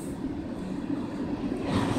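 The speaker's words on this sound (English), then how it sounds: "now I'm just relaxing, watching the train. This is a nice size train." A big freight train rolls past in Brighton, Michigan, a steady loud rumble of railcars with a faint metallic rattle, continuous throughout and swelling slightly at the end.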